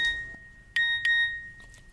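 A mobile phone chimes with a text message alert, two bright electronic beeps close together and fairly loud in a quiet room at night, with no one speaking.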